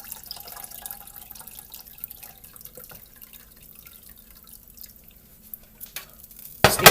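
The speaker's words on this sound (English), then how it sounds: "Let me put some of that fat in these beans." Meat fat drippings poured from a pan onto green beans for an oven-made barbecue meal, a faint irregular trickle and drip that runs steadily and then ends with a louder clatter.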